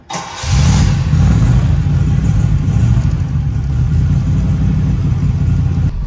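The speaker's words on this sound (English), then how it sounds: "Just listen to that V8 burble, it's just immense, isn't it?" A Triumph Stag V8 fires up and settles into a deep, loud, steady burbling idle close by, its low rumble running continuously after a brief starter whir.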